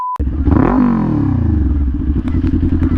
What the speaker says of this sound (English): antagonizing the geese on my motorcycle